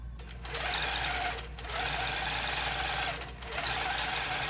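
A longarm quilting machine with a computerized Pro-Stitcher stitches across a quilt, a close, steady mechanical hum with two brief dips in the run.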